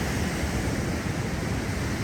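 The Deschutes River rushes steadily, a broad, unbroken roar of water seen from a rocky outcrop along the trail near Benham and Dillon Falls, with no voices over it.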